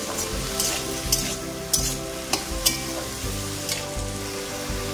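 Salted samosa filling sizzles steadily in a hot pan while a spoon stirs it, making a few soft scraping knocks over the continuous frying hiss, close up and alone.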